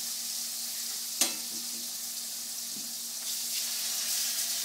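Steady hissing sizzle of pork chops frying in a hot pan, constant and close, with a brief clunk near the start.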